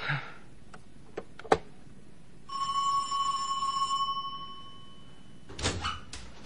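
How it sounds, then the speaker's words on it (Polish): Doorbell rings in an apartment, a clear sustained electronic chime lasting over a second, preceded by a few sharp knocks or clicks and followed by door and movement sounds, fairly close with no speech. "Ktoś dzwoni do drzwi."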